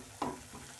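Kidney beans tipped into frying masala in a pan give a short, soft thump and stir, then a quiet sizzle in a brief moment.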